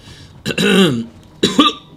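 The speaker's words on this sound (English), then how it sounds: "Oh, excuse me. Bit of a cough today." A man gives two quick, rough coughs during a live Supreme Commander-style strategy game commentary, close to the microphone and clear of other speech.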